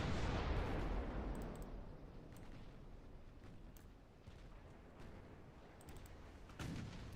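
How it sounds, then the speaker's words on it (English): Heavy torpedo blasts in a naval warfare game, with a loud broadband boom at the start that decays into a long rumbling tail, a few sharp crackling hits scattered through, and another deep impact near the end; no talking. "Multiple torpedo detonations."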